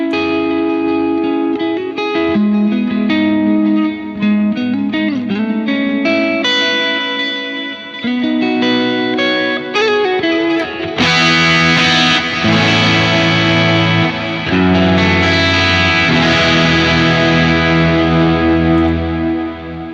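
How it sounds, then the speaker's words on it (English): Electric guitar played through a small pedalboard with reverb and delay, picked single notes and chords ringing out with echoing tails, building into a brighter, denser distorted passage about halfway through. "Especially when I got some reverb delay going on."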